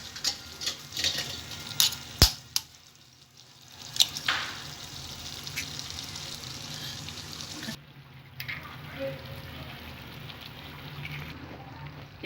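Eggs frying with avarekalu beans in a pan over low flame, giving a soft steady crackle with a few sharp clicks and taps of a spatula early on, close and fairly quiet, with no one talking.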